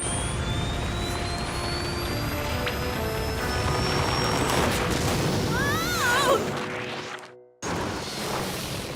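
Cartoon rocket boots fire at maximum thrust with a loud, sustained jet-like roar and rising whooshing tones, swelling toward a sharp burst near the end before cutting out abruptly and resuming briefly.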